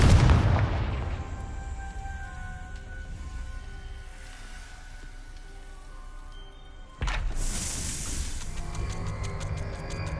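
Confringo, the explosive spell in Hogwarts Legacy, lets off a loud booming blast up front, then a rumbling tail fades over several seconds before a second sharp burst of crackling noise hits near the end.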